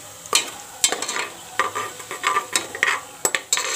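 Whole spices roast in a pan for masala khichdi, with a spoon stirring and scraping in irregular strokes over a light sizzle and occasional crackle, close and moderately loud.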